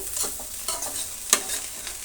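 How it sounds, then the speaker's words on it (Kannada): Ridge gourd curry is stir-fried in a pan, giving a continuous low sizzle broken by repeated scraping strokes of a spatula, one sharper clack near the middle, with no voices present. "ಪಲ್ಯದಲ್ಲಿ ತೇವಾಂಶ ಸ್ವಲ್ಪ ಕಡಿಮೆ ಆಗೋ ಮಟ್ಟಿಗೆ ನಾವು ಈ ರೀತಿ ಫ್ರೈ ಮಾಡ್ಕೋಬೇಕಾಗತ್ತೆ"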